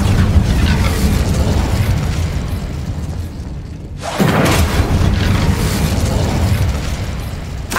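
Incendio fire spell cast in the video game Hogwarts Legacy, a loud roaring whoosh that dips briefly and then bursts back into a full, sustained fiery rush, no talking.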